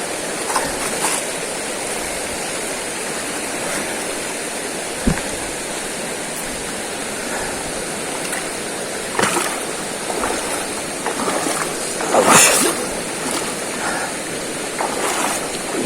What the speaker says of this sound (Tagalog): Okay, tatawid na naman uli kami ng ilog.